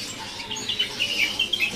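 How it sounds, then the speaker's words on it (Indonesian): A cipo bird at a bird-selling kiosk gives high, thin chirps and twittering notes, scattered unevenly over a soft background hiss. "Ini ada burung cipo."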